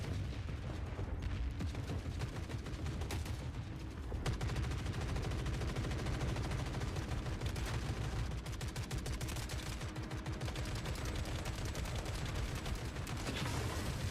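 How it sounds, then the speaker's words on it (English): Sustained gunfire in the video game Forever Winter: a continuous, dense rattle of shots with booming low impacts that stays loud throughout. "Are you shooting at me?"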